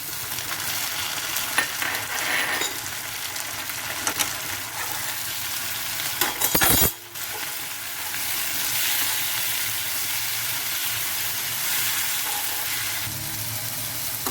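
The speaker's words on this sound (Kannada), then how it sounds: "ಶುಂಠಿ, ಬೆಳ್ಳುಳ್ಳಿ, ಈರುಳ್ಳಿ ಎಲ್ಲ ಫ್ರೈ ಆದಮೇಲೆ ಟೊಮೆಟೊ ಹಾಕೋತಾ ಇದ್ದೀನಿ." Tomato frying in a pan over ginger, garlic and onion: a dense, steady sizzle with occasional stirring scrapes and a brief louder clatter midway, close and uninterrupted by speech.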